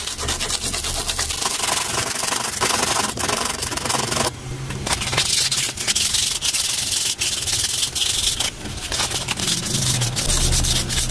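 Continuous hand sanding with 1000-grit sandpaper on a box fan part during repair, a dense, rhythmic rubbing scrape with brief pauses and strokes changing pace, close and loud throughout.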